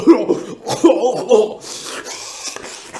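A voice imitates a city stranger coughing, giving a few short throaty bursts in the first second and a half, close and fairly loud, then dropping to softer breathy sounds.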